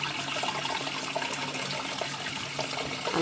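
Hot water pours steadily from a household tap, a loud continuous rushing splash that stays close and unbroken, with no one talking.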